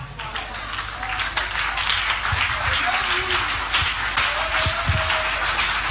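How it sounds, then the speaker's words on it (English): A crowd claps in a continuous dense patter lasting several seconds, steady and fairly loud, with a voice speaking over it and a few low thumps scattered beneath. "Are you clapping for that?"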